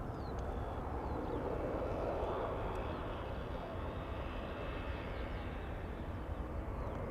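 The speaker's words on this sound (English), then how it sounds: "Also sounded like there was a heavy taking off from center" A heavy Boeing 787 Dreamliner taking off from the center runway at Schiphol Airport, heard as a distant, steady broadband engine roar that holds throughout at low level.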